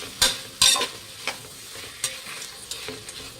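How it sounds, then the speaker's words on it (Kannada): Mixed vegetables sizzle in oil with turmeric over a medium flame while a spoon stirs them, giving irregular scraping strokes over a soft, constant frying hiss. "ಎಣ್ಣೆಯಲ್ಲಿ ತರಕಾರಿ ಚೆನ್ನಾಗಿ ಫ್ರೈ ಆಗ್ತಿರಲಿ"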